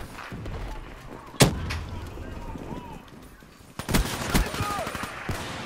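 Gunfire from the player's own weapon in Call of Duty: Black Ops III rings out in a few sharp, loud close shots separated by pauses, with someone talking over the game sounds.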